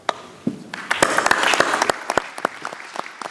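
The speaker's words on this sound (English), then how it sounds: "one more round of applause for our Attorney General." An audience applauds the Attorney General, with scattered claps building into a dense, lively round of many hands that then thins out into a few sharp, separate claps.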